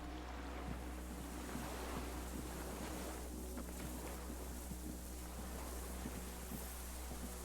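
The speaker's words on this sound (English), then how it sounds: "Distant sound of cargo ships. Signal horns echo on the water." Disco Elysium game ambience of distant cargo ships and signal horns over water: a quiet, steady wash of wind and surf with a low, sustained drone underneath and no voices.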